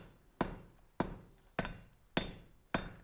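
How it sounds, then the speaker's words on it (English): Treadle hammer forging a piece of metal, giving five evenly spaced dull thuds about half a second apart, each a sharp close strike with a short ringing decay. "Hear that dull thud almost?"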